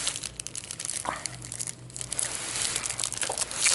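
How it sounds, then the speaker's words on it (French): Plastic wrapping on a Terraforming Mars card pack crinkles and crackles up close as it is torn open and handled, in irregular bursts of rustling that continue throughout, with no talk. "On va ouvrir l'autre paquet."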